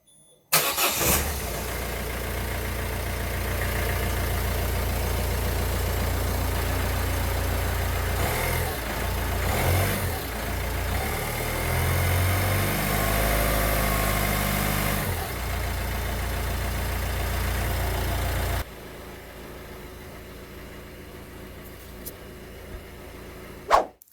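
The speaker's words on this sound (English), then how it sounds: "So now I'm going to start the engine and let it run for a wee while." A Peugeot Citroen Ford 1.6 HDi diesel engine cranks, catches and idles steadily after a timing belt change, with a loud close clatter that holds for about eighteen seconds before dropping to a quieter background.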